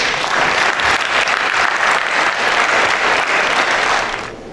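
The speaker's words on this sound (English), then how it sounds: "So I think we all deserve a round of applause." A conference audience breaks into dense, loud applause that holds steady for several seconds before tapering off at the end.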